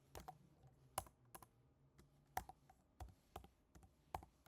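Typing on a computer keyboard while entering a short attribute name in the BotPenguin chatbot builder: close, quiet, irregular key clicks in small clusters with gaps, no voices.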